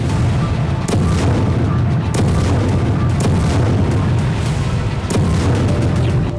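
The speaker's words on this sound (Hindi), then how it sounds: "रूसी सेना जल, थल और नभ से यूक्रेन पर किस तरह से बारूदी धावा बोल रही है" Explosions from Russian attacks on Ukraine in war footage, a continuous loud low rumble with several sharp booming blasts spaced a second or so apart.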